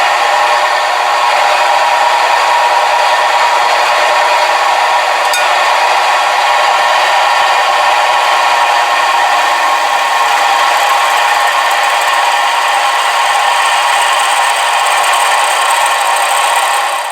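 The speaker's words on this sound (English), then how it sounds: "I'm ready to drill and tap the jig plate now." A loud, steady machine whine drones on without pause, a constant high mechanical hum like a drill press running, while drilling and tapping a metal jig plate.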